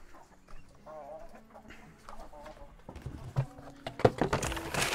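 Backyard hens, including Wyandotte and Araucana chickens, cluck and murmur nearby in short, scattered calls that grow busier and louder toward the end, with some rustling and handling noise.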